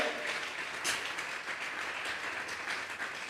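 A church congregation claps in sustained, even applause during a Sunday service, a continuous patter that sounds somewhat distant and fairly quiet, with no voices over it.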